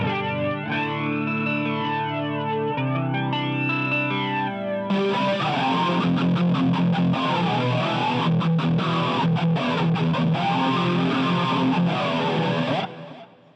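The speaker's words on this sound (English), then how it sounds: "So right now it's set to a flanger." An electric guitar runs through the flanger effect of a Boss GT-8 multi-effects unit. Ringing notes give way to thick, swirling, sweeping chords that stay loud and up close for several seconds before cutting off.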